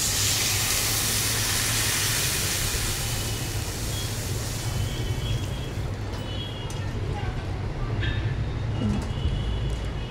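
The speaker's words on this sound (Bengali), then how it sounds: "পরিমাণ মতন জল দিয়ে দেবো।" Water is poured into a potato, tomato and fish curry in the pan, making a continuous rushing hiss that holds steady and then thins out toward the end.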